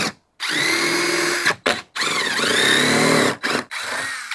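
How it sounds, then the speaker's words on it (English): A power drill driver with a number 3 Phillips bit whirs loudly in several bursts, spinning up and winding down with short pauses between runs as it drives bolts for a Garmin Force trolling motor mount. "Come back with my drill driver, put my number 3 Phillips head,"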